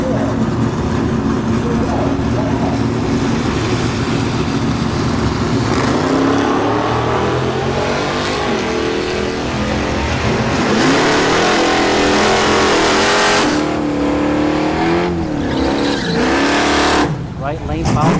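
Drag racing cars, Sportsman bracket class, roar down the full quarter mile at Bradenton Motorsports Park with sustained loud engine revving and acceleration, while a track announcer talks over them throughout.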